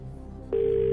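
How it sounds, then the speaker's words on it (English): A telephone rings once in a steady electronic tone over a low studio hum, placing a phone-a-friend call on the quiz show Who Wants to Be a Millionaire. "Could I phone a friend, please?"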